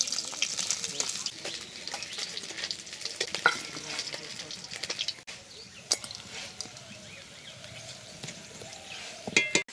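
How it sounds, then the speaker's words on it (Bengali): Fish sizzles steadily in hot oil in a home kitchen, a continuous crackling fry with occasional sharper pops and faint clinks of utensils, no talking over it. "মাছগুলো ভাজতে বসিয়ে দিয়েছি"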